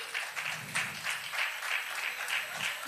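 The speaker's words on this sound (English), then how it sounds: "Big round of applause." Rhythmic clapping rises from a crowd at a show launch event, heard as regular pulsing beats at moderate distance, somewhat soft but steady throughout.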